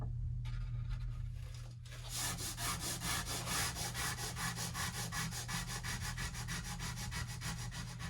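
Hand sanding through the old finish on a wooden table with 150-grit paper, a steady rhythmic back-and-forth rasping of close, even strokes after a brief pause, continuing without talk.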